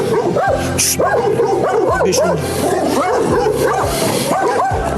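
A dog barks and yips repeatedly in quick, agitated bursts, mixed with whiny whimpers, loud and close throughout.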